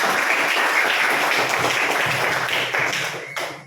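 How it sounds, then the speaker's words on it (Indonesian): A classroom of students claps together in a dense, steady round of applause lasting a few seconds before tapering off. "berikan aplaus untuk orang"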